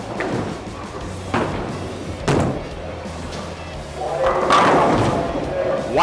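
Bowling ball on a Super Bowl lane house shot crashing into the pins, with sharp thumps and a louder rattling crash of scattered pins toward the end, under background alley noise and some talk.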